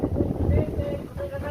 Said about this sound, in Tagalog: Bakit ang lakas ng hangin?